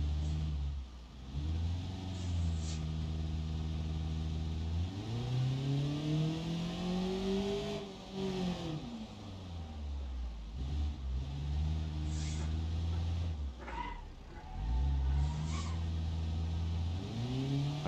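An automatic car in the video game BeamNG.drive revs and accelerates repeatedly, its engine tone sweeping up and dropping back between gear changes, moderately loud and without talk.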